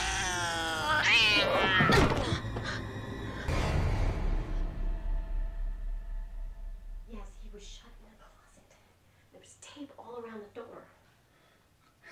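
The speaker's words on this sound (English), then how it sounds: "Sounds like a cat." A cat meowing in The Grudge (2004) horror film, a string of drawn-out, wavering cries near the start, followed by quieter breathy whispers and later faint rhythmic sounds.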